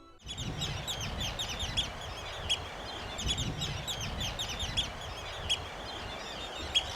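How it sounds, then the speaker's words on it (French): A bird colony on the Isle of Rùm keeps up a dense, continuous chorus of overlapping chirps and squawks over a steady rushing background, with a few sharper cries standing out now and then. "étudient des colonies d'oiseaux."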